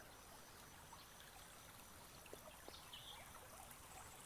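A creek flows through a low canyon surrounded by rock walls, giving a faint, steady wash of running water with a few small trickles and splashes and no voices.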